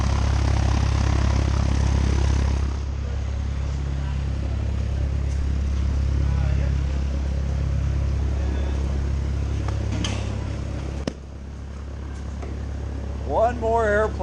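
A Cessna 172 propeller plane drones steadily at close range, its engine hum loud and constant, briefly dipping near the end.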